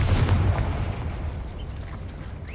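The Confringo fire spell in Hogwarts Legacy lands as a deep, rumbling boom at the start, then fades into a lingering low roar with a few faint pops.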